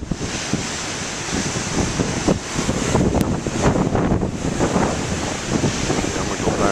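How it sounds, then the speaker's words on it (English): Big ocean waves surge and break against a coastal platform built in 1749, a constant loud roar of surf with gusty wind buffeting the microphone throughout. "Each time I come here, the waves are a little different, you know."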